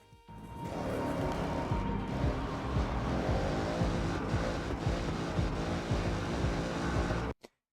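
An Audi RS6 Avant with rally tires races in the Forza video game, its engine holding a loud, continuous drone with shifting pitch for about seven seconds before cutting off abruptly, with no talking.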